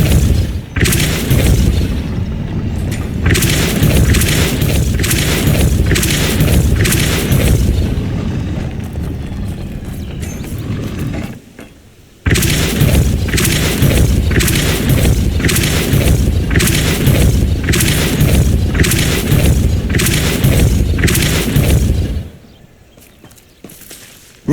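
Depulso spell impacts in Hogwarts Legacy, a rapid series of booming blasts in two long bursts, loud and close, separated by a brief lull and ending in quiet.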